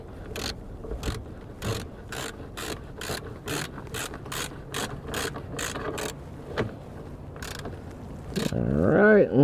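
Rapid clicking of a ratchet tightening the oil filter housing bolts on a Hyundai Palisade, a steady series of sharp metallic ticks in short bursts, close and clear, ending in a louder rustle.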